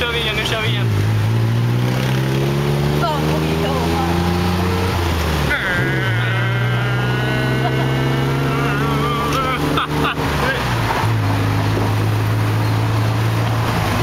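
A fast taxi racing through Bangkok traffic, with a loud, continuous engine drone rising and falling as it accelerates, plus road and wind noise throughout and voices talking over it.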